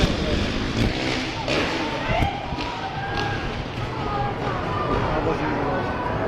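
Motorcycle engines revving during stunt jumps over a ramp at the Carlisle Truck Nationals show in Pennsylvania, heard at a distance with windy outdoor noise and scattered thumps while someone talks over it.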